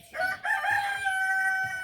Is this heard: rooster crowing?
yes